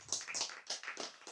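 Quick bursts of audience clapping at a sermon or religious lecture, short rhythmic rounds of hand claps sounding fairly faint, with no talking over them.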